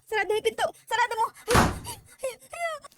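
A door closes in the Roblox A.I. Apartment game, one short thud in the middle of continuous nearby talk.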